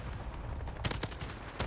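An AUG rifle in the Modern Warfare video game fires a rapid burst of close, punchy shots, followed by one more short crack, over low game rumble.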